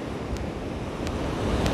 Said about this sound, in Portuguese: esse vento forte vai passar